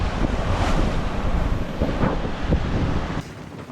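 Strong wind blows across a boat at sea off Queensland, Australia, roaring and buffeting the microphone over surging waves for the whole stretch, then dropping slightly near the end.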